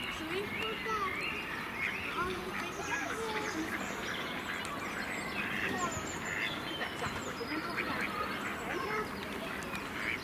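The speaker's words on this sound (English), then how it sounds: "frightening all the rest of the ducks away" A flock of ducks at Bryngarw Park quacks and squabbles continuously, close by and fairly loud, over a steady outdoor background, with people's voices mixed in.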